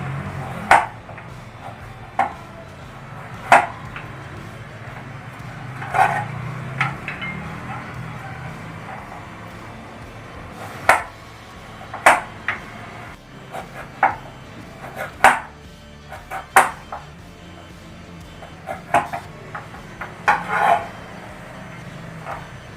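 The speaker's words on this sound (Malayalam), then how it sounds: "അതേപോലെ നമുക്ക് എല്ലാ കപ്പിനെ നുറുക്കിയെടുക്കാം" Knife chopping tapioca (cassava) into small pieces on a cutting board, sharp irregular chops scattered close by throughout, with a low background hum.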